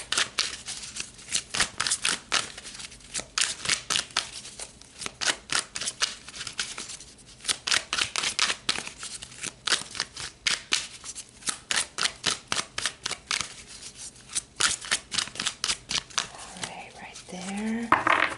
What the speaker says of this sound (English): Let's pull some more cards and see what else Spirit wants to add to this.